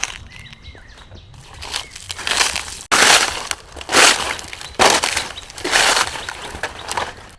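Loud, irregular crunching bursts of dry winter-fallen leaves underfoot on a forest path, several close crackling rustles in a row with brief pauses, no talking.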